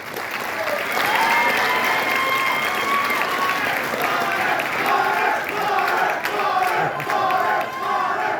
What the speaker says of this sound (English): Give him one last round of applause.